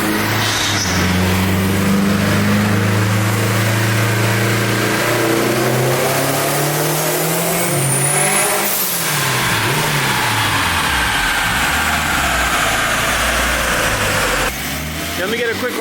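A turbocharged K24 engine in a Honda Civic Si runs on E85 during a dyno pull, revving hard and climbing steadily through the gears with a loud, continuous, close-up roar and a high turbo whine.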